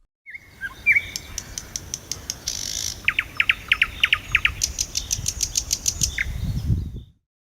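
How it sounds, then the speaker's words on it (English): Nightingale singing outdoors, a varied song of whistled notes, rapid repeated trills and bursts of chirps, heard near and clear over a steady background hiss with low rustling. "nightingale,"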